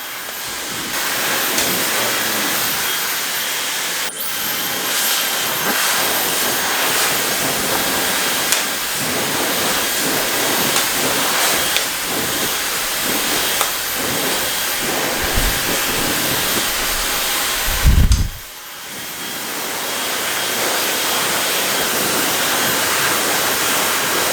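A hair dryer blows steadily and loudly while short hair is brushed and styled, a continuous broadband rush that cuts out briefly near the end before resuming.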